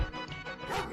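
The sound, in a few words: dog barking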